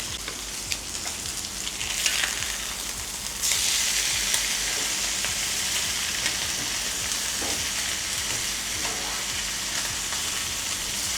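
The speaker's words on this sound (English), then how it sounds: "So we're gonna grill those up" Bell peppers and onions sizzle loudly in garlic butter in a pan, a steady, close frying hiss that gets louder partway through as more food hits the hot surface, with faint stirring scrapes.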